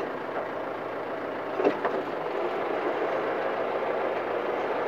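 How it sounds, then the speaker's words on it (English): A John Deere backhoe engine idles with a steady low diesel rumble throughout, broken by a brief knock or clank partway through, with no voices. "The machine's at an idle, so it doesn't have the strongest hydraulics right now."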